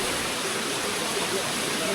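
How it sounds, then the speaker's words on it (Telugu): Steady broadband rush of a waterfall at Araku, heard from partway up the falls, continuous and fairly loud with no breaks. "మనం వాటర్ ఫాల్ సగంలో ఉన్నాం"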